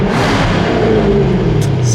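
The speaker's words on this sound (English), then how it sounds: "Let's give it a couple revs." Jaguar F-Type R engine revving in a parking garage with exhaust valves open, a continuous deep rumble echoing off concrete, held steady near and loud with rev limit around 4,000 RPM.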